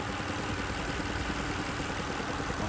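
Car engine idles steadily during a MAF sensor test, a continuous even rumble at close range with no speech over it.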